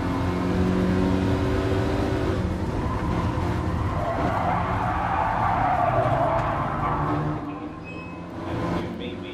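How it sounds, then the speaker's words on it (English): A racing car in GT Sport braking with ABS, its tires squealing over a steady engine roar that stays loud throughout and eases briefly near the end. "I'm easing off the brakes every time I hear a squeal because I don't want to be locking my brakes"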